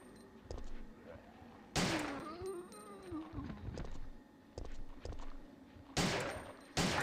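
Gunfire from the PlayStation game Resident Evil 3 booms out as several loud, heavy shots spread across the stretch, with bursts near the start, the middle and the end, each trailed by a rumbling tail and game ambience.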